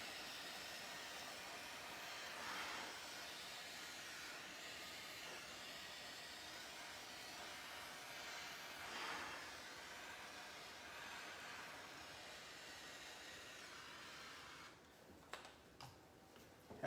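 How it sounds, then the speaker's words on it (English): A kitchen blow torch gently flames a chocolate dessert, giving a steady, even hiss that holds for about fifteen seconds with slight swells, then cuts off into a few faint clicks. "And it's going to lightly blow torch."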